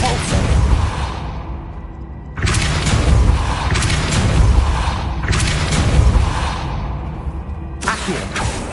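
Spell blasts from the Hogwarts Legacy video game, each Depulso a loud booming whoosh with a sharp onset, repeating roughly every two and a half seconds over a steady rumbling game soundscape.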